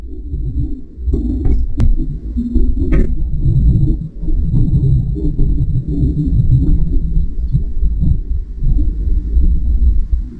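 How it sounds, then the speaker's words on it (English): Thunder rolls as a deep, loud, sustained rumble through the whole stretch, swelling and easing with a couple of sharp cracks near the start and no voices. "And yes, that was thunder."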